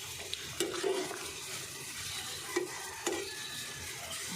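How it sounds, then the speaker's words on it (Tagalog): A pot of beef-eye soup with onion, ginger and vegetables bubbles and simmers on the stove, a soft steady churning hiss with a few faint clinks and pops, no talking. "Kumukulo na guys."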